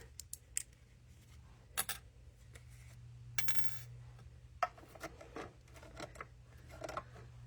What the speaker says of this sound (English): I appreciate you hanging in there with me while I cut all these little flowers.